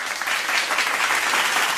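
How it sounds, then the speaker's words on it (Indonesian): Dense, steady audience applause fills the hall at a Sidoarjo government information office event, many hands clapping close together without pause, loud and even throughout. "Beri tepuk tangan dulu."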